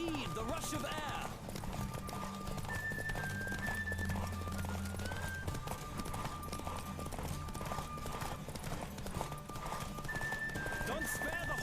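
Rhythmic hoofbeats of a galloping horse with a whinny in a horse race in The Witcher 3: Wild Hunt, layered over game music with steady tones and effects, loud and continuous.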